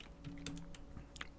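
A computer keyboard clicks in a short, quiet run of irregular keystrokes, close and soft, with no voice over it.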